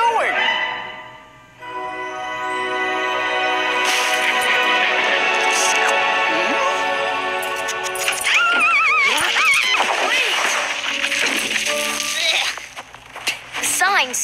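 A puppy whimpers and yips in a long, high, wavering cry that rises and falls at close range, ending in a few shorter yelps.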